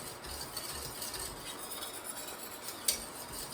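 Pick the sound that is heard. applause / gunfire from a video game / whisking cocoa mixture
whisking cocoa mixture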